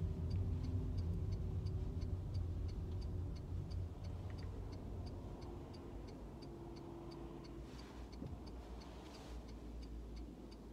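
A car's turn signal indicator ticks in a steady, even rhythm near the cabin during a driving test route, with engine and road rumble running underneath and no talk.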